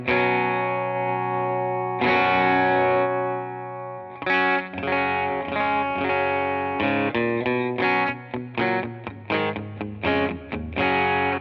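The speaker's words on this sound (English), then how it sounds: "so that's supposed to be my clean Telecaster sound." Fender Acoustasonic Telecaster electric guitar on a clean tone with the drive off, strummed chords ringing out alone, then a run of shorter rhythmic stabs and picked notes.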